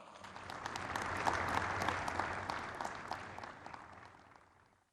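A crowd at a Champions League and Confederation Cup 2018 draw gives a rousing round of applause for ambassador Hazem Imam, swelling to a dense peak and then fading away to silence.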